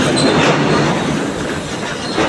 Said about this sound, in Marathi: हे बघा ही मालगाडी